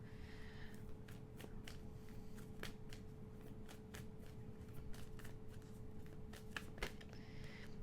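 A Moonology Oracle card deck is shuffled by hand in a quiet room: rapid, soft riffling and flicking of cards in repeated bursts over a constant low hum, with no talking.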